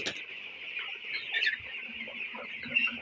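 Seventeen-day-old broiler chickens in a poultry shed make a dense, continuous chorus of high chirping and soft clucking that hangs close and steady throughout.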